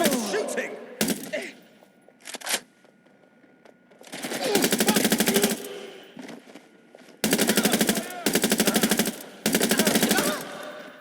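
Rapid bursts of automatic gunfire in the Watch Dogs: Legion video game, several loud sustained volleys separated by short pauses, with scattered shouting voices in between.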